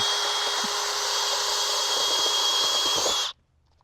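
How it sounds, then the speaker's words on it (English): A neighbor's power drill, used for a solar panel installation, whines continuously at a steady pitch for about three seconds, then cuts off abruptly into quiet. "Christopher, I think someone else is also using a drill today."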